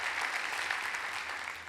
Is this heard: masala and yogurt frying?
no